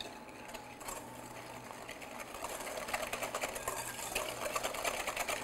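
A whisk beats granulated white sugar into a mixture in quick, rapid metallic taps against a bowl, fairly close and steady, building slightly in intensity, with no talking.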